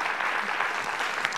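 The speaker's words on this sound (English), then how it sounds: "yes, clap." A crowd applauds in a brief, dense burst of clapping at a talk about a personal sacred journey, even and fairly loud from start to finish with no clear voices over it.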